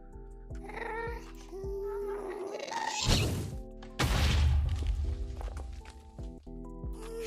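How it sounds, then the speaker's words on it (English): Minecraft ghast sounds, made from inverted cat noises, sound out as cat-like wails and cries over a steady tonal hum, with sharp thumps near the start and two loud noisy bursts midway. "ghasts are inverted cat noises. That's how their game sound was made."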